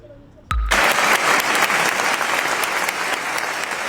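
Applause bursts out abruptly after a brief quiet moment at the opening of the Teatro Real opera season, a large theatre audience clapping loudly and steadily without pause.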